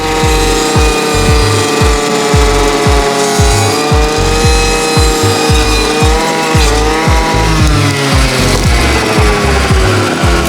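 Dnipro-M 50RX petrol brush cutter cutting into a dry tree, the engine roaring loudly and steadily with rapid rhythmic load surges as the blade bites, close and continuous with no talk.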